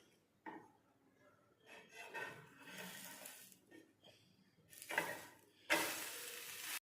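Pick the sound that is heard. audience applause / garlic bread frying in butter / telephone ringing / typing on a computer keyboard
garlic bread frying in butter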